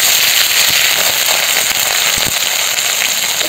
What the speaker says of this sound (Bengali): ফোড়নে দেবো গোটা জিরে আর শুকনো লঙ্কা, কেটে রাখা টমেটো, কেটে রাখা জিরে আর আদা।